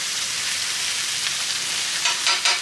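Burgers and bacon fry on a griddle for the two monster burgers at The Cook Shack, giving a steady, loud sizzle throughout with a couple of sharper flare-ups near the end.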